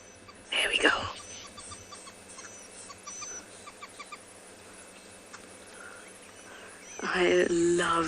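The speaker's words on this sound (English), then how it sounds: "I am trying to find for you the green woodhoopers that we can hear." Green woodhoopoes calling at sunrise on safari, a loud burst of chattering near the start and another rising cackling chorus toward the end, with fainter bird calls scattered between against a steady outdoor background.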